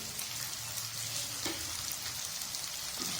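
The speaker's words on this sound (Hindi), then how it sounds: "हमने इसे भून लेना है काफी अच्छे से।" Turmeric, salt, coriander powder, crushed green chili and crushed garlic fry in a pan, making a continuous close sizzle with a couple of faint stirring taps and no voices.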